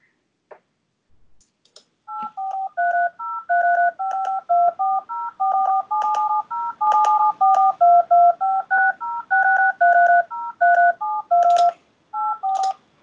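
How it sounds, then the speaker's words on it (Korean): A WAV file plays telephone keypad DTMF tones, recorded as a thief opened a safe's number lock. Dozens of short two-tone beeps follow one another in a steady, rapid sequence, loud and clean, with no talk. "이 전화기 소리잖아요. 버튼 누르는 거."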